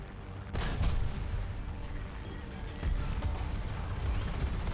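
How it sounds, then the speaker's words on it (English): Tank cannon fire and impacts in War Thunder during a Pz.III N battle, with several sharp, loud blasts over a steady engine rumble. "someone else is shooting me"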